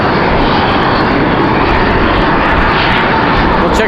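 A Boeing 737-800 airliner at Raleigh-Durham International Airport, on a windy day, produces a loud, dense, unbroken engine roar that fills the whole stretch, close by.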